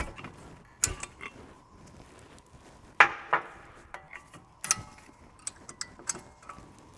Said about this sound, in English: We're replacing the distant pad, so I'm just going to use a screwdriver just to lever it out